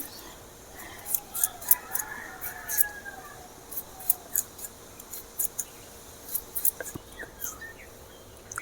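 Potatoes being peeled for a soybean curry, with soft, irregular scraping strokes close by, quiet and repeated over several seconds.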